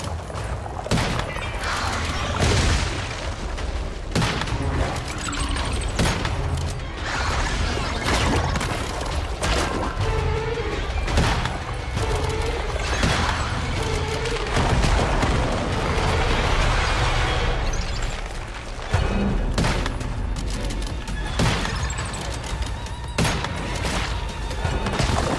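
Continuous rapid gunfire in the shooter Once Human, a dense barrage of shots and impacts with crashes and booms layered through the stretch, loud and sustained with brief lulls and no talk.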